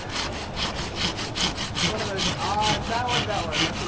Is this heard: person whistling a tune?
no